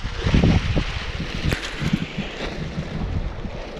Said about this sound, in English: So it's windy today.